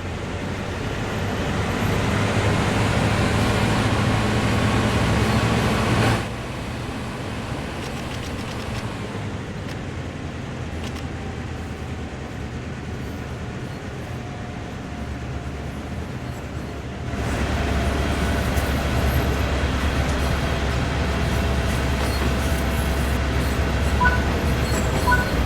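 Continuous low rumbling drone of a GP38-2 diesel locomotive underway in Train Sim World 5, engine pitch and loudness shifting in steps, steady mechanical noise throughout.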